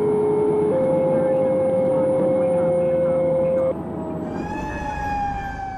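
Fire engine siren on Engine 5 responding to a first-aid call, a loud steady wailing tone that holds then shifts pitch partway through, running continuously close by over engine rumble.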